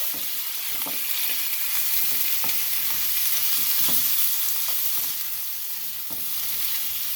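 Clams, octopus, jumbo scallops and shrimp stir-fry in a hot pan, a loud continuous sizzle with regular scraping stirs of the spatula throughout, close and with no talk.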